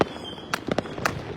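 Saturn missile fireworks at a New Year's celebration bursting in several sharp cracks and pops, a handful of close, loud bangs spaced irregularly over a steady outdoor hiss.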